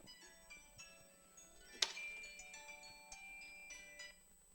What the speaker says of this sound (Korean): 시도 때도 없이 전화 옵니다